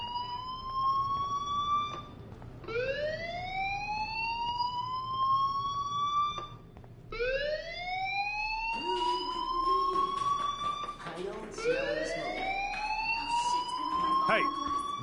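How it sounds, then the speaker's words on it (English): A fire alarm in Life Is Strange Remastered wails in repeated rising whoops, each sweep climbing in pitch and lasting about two seconds, loud and close. "do you hear that fire alarm? That means you should be outside."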